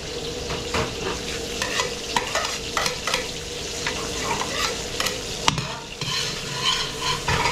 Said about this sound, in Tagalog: Yung mga beli, papupulayin ko lang yung bawang sibuyas natin.